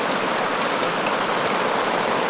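Rainwater running steadily through a low-profile gutter leaf filter, a dense continuous hiss and patter of water trickling through leaves and over a grid, close and unbroken.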